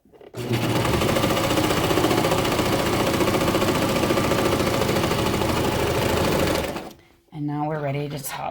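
A serger runs steadily around the corner of a pair of shorts, a loud and even mechanical hum of rapid stitching for about six seconds. It stops abruptly, and afterwards a short burst of talk follows.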